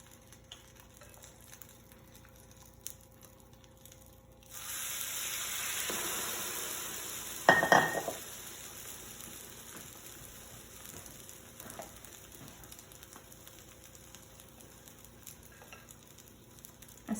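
French toast sizzles and fries in a hot pan, a steady close crackle that swells midway with a brief louder burst, then settles to a quieter hiss.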